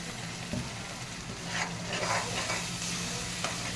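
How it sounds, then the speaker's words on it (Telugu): Spinach and green chilli paste cooks in a pan for palak paneer, giving a steady soft sizzle with scraping stir strokes, moderately close and without voices. "మనం మిక్సీ పట్టుకున్న గ్రీన్ పేస్ట్ని, పాలకూర పేస్ట్ని ఇందులో వేసేయాలి"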